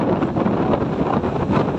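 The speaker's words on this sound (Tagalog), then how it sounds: "Lakas ang hangin." Strong wind after rain near a riverside bridge in the Philippines buffets the microphone with a loud, continuous rushing roar and no speech.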